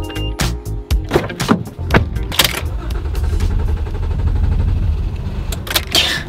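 A car on the way to an equipment rental store gives a low rumble under a run of sharp clicks, thuds and rattles, like doors, keys and fittings, some loud and close.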